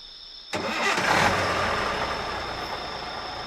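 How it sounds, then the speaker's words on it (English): A truck engine cranks and catches with a sudden onset, then settles into a steady, fairly loud running rumble close by. "Joe started the engine, and the journey began."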